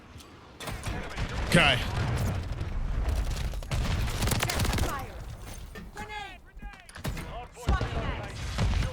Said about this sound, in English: Oh, they got a cruise missile.